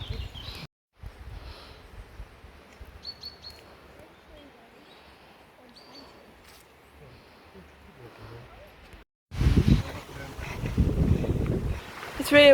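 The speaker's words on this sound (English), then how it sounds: "It's really windy," Wind blowing through Dalby Forest, soft low rumbling gusts under quiet talk, then a stronger buffeting burst of wind noise hitting the microphone over the final few seconds.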